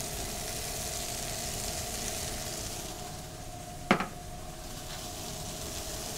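Pine nuts hit a pan of fried cauliflower with a steady, soft sizzle, followed by one sharp clatter of a utensil against the pan before the frying hiss carries on, faint and close.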